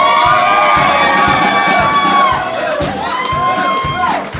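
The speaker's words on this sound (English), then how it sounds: "Come on, everybody cheer for Alyssa." A crowd at a polka band show cheers and whoops loudly for Alyssa, with high children's shouts mixed in. The cheering is sustained, dips briefly midway, then surges again over a steady thumping beat.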